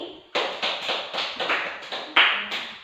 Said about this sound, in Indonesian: Maka dari itu kita beri tepuk tangan dulu untuk Melati.